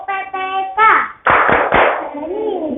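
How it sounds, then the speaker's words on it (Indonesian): Schoolchildren in a classroom chant a rhythmic clapping song together. Sung voices come first, then a few sharp, loud claps land in sequence as the group call continues. "kita tepuk PPK biar semangat temannya"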